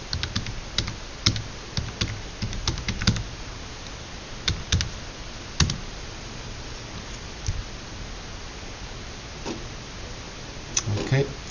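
An email address and password typed on a computer keyboard during an Office 365 sign-in, quick bursts of close, light key clicks with pauses between them and steady background hiss.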